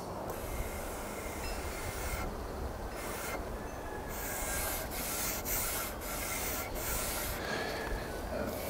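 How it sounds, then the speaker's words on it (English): An orbital sander works over dyed wood with a steady, close, abrasive whir and rubbing hiss, pausing briefly a few times as the pad lifts, with no voices. "take an orbital sander to it"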